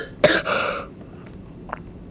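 A single sharp cough rings out close to the microphone, followed by a fainter short cough moments later in a quiet room.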